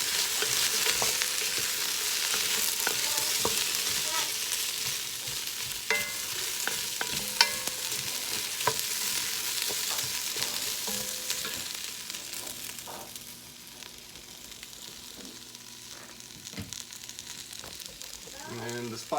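Lentils frying in a hot pot with spices, stirred with a steady sizzling hiss and scattered scraping clicks of the spoon, fairly close and continuous, easing slightly toward the end.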